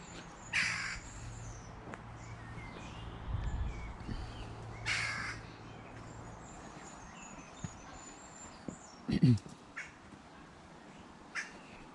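A carrion crow calls from treetops on a spring woodland walk, giving a few distant, hoarse caws spaced several seconds apart over a soft outdoor background.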